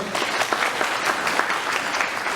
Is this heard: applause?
yes